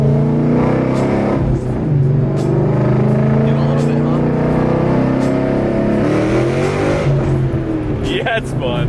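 A Coyote-engined Ford Mustang accelerates hard on a cool road, its V8 roaring loud and close inside the cabin with rising then shifting engine tones, while people talk over it.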